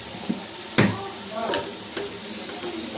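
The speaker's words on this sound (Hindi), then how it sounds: "अब हम इसमें एक टमाटर कटा हुआ डाल देंगे।" Chopped tomato and salt hit a pan of softened onion for sooji dhokla, giving a steady close sizzle with a few stirring scrapes and clinks.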